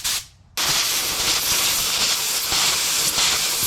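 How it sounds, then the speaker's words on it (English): A compressed air gun pushes a handlebar grip onto a custom Motovox minibike. After a short puff and a brief pause, a loud, close, steady hiss of blowing air continues to the end. "An easy way to get this grip on is using some compressed air."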